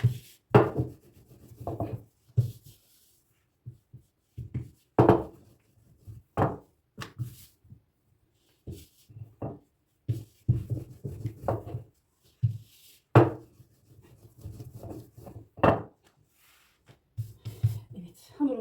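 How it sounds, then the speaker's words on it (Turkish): Homemade baklava dough dusted with starch is rolled thin with a wooden rolling pin. Close, intermittent rubbing and knocking strokes come in irregular bursts with short pauses between them. "Hamurumu nişastaya bandırıp merdane ile açıyorum."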